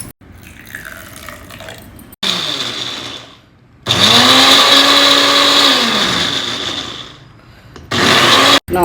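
An electric blender grinds grated coconut and a green chilli into paste in loud, close bursts, each rising to a steady whirring drone before winding down, with short quiet gaps between pulses.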